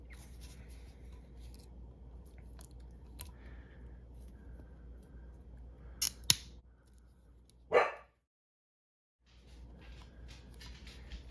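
A dog in a busy household barks a few sharp times at a moderate distance, followed by a louder close bark and then a brief moment of silence.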